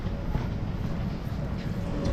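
A Helsinki city tram pulls away at night, giving a steady, close low rumble with broad rolling noise that holds level throughout.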